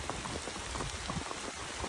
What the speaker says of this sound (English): I can't tell you how heavy this rain is.